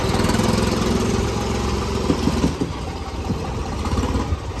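A tractor engine runs steadily close by, a dense rumbling drone with a slight pulsing throb that holds throughout, with no talk over it.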